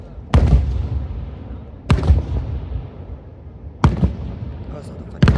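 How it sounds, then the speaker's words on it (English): Firework rockets launching and bursting outdoors, four loud sharp booms spaced a second or two apart, each trailing off in a rumbling decay. "Rockets."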